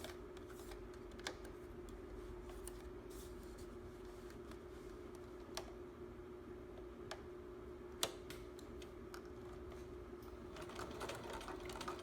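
A domestic sewing machine stitches quilt binding with a steady, faint low whir, dotted with sharp clicks and ticks as the fabric is handled, without any talking.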